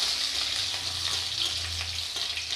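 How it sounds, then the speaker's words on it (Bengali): Crushed garlic cloves frying lightly in oil for masoor dal with jute leaves, a soft, even sizzle with faint stirring sounds, brief and close, with no one speaking. "রসুনটা আমি হালকা করে একটু ভেজে নেব।"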